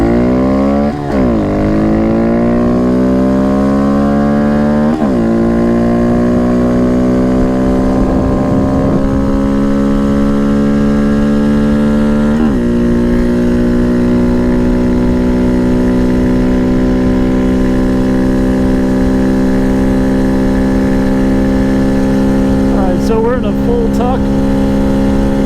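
A 2019 Honda Monkey with a 36-tooth rear sprocket runs loud and close, its engine rising in pitch through several gears with clear drops at each shift, then holding a steady high-speed drone under wind noise.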